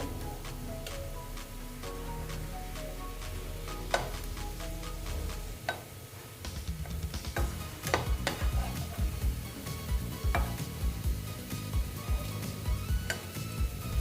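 Ripe banana fritters fry in a pan of hot oil, a steady close sizzle with scattered clicks and scraping of a utensil, continuous throughout with no talking.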